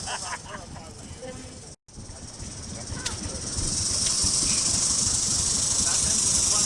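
Steam locomotive running on real steam during a train run-by, giving a steady broad hiss that swells louder and fuller after a brief dropout, with faint voices mixed in.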